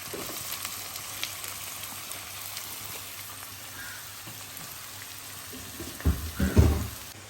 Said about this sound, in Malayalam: ആ വെളിച്ചെണ്ണയിലേക്ക് എന്നാ മസാലയൊക്കെ ഉള്ള ഉള്ളി ഇടാം കേട്ടോ